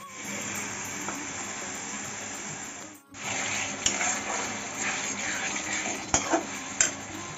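Potatoes and spices are stirred and sautéed in a pan, giving a steady frying sizzle with scraping stirs and a few sharp clinks of a utensil against the pan; a brief gap interrupts it partway, with no talking.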